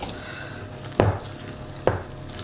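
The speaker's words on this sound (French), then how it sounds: "je continue à mélanger" A spoon or whisk works raspberry cake batter in a bowl, giving a soft continuous scraping swish with two sharp knocks against the bowl's side, close and quiet.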